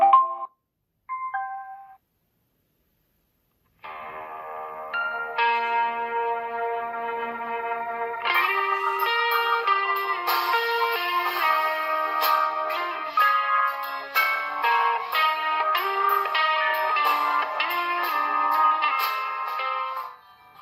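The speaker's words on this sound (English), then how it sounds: "listen this music coming from the speaker itself" Music plays from the small Bluetooth speaker built into a 4-in-1 LED table lamp, a thin, bass-light tinkly melody after a few brief opening tones, steady and moderately loud with no voices.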